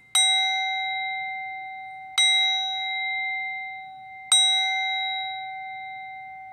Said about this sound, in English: I'm going to use my singing bowl to clear the energy.